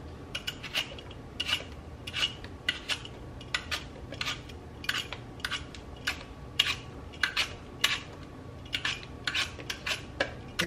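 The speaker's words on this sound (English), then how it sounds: "I've got 3 Granny Smith apples and I am going to peel and chop these." Granny Smith apples being peeled and chopped by hand, with a brisk run of quick scraping and tapping strokes of a knife against fruit and board, close and fairly faint, irregular in rhythm, no talking.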